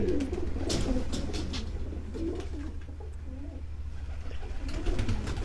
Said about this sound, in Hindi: ये टैडी ब्रीड का जो कबूतर है